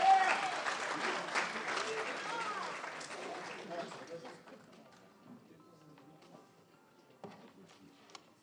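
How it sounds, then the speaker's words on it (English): Hearty applause from an audience at a live pro-democracy event, loud at first and then thinning into scattered claps that fade out over several seconds. "So a good round of applause for Texas."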